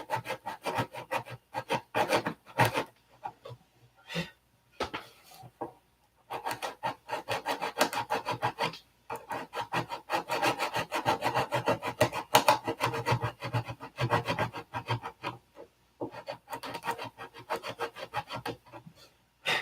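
Wood edges being hand-sanded in short, quick strokes, a near, dry rasping scrape in bursts separated by brief pauses, with no talk.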